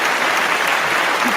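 An audience claps after a VR demo at a conference, a dense, even burst of applause that fills the whole moment without a break.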